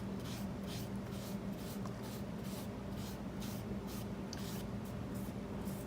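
Glue is spread evenly over a wood surface, producing soft, repeated brushing and smearing strokes in a steady rhythm, close up and fairly quiet, with no voices.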